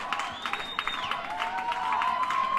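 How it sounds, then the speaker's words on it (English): Rugby crowd at a Point Park Bison match breaking into a Bison chant, a continuous roar of voices with scattered claps and cheers swelling steadily louder across the stands. "we have a Bison chant breaking out in the crowd"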